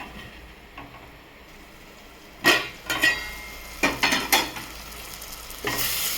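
Tomatoes with chili powder stirred in a pan: quiet simmering, then a run of loud scraping spoon strokes against the metal in uneven bursts, close and clear, with no talk.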